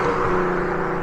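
A 3-litre VW Golf R32 engine burbles steadily at close range, a low, even drone with no revving and no voices over it.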